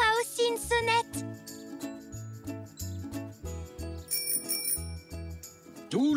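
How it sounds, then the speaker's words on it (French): A bicycle bell on a cartoon zebra's bike tinkles several times amid bouncy background music, with a short vocal sound at the very end. "Maintenant, mon vélo a aussi une sonnette."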